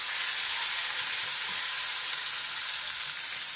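Shrimp and button mushrooms sauté in a pan for a cream and curry dish, giving a steady, loud, close sizzle with no break or voices.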